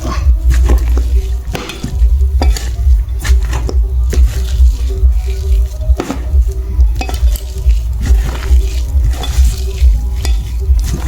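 Mustard flower fritters fry in a wok of hot oil, a steady loud sizzle running throughout with occasional scraping and clinks of a utensil stirring against the pan.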